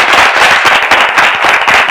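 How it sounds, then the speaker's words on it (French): A studio audience at an evening show claps loudly and steadily, a dense close wash of applause with no talk over it. "Des applaudissements pour vous."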